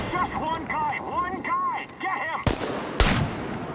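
Two sharp, loud shotgun blasts from the video game Chernobylite ring out about half a second apart near the end, following a stretch where someone talks excitedly.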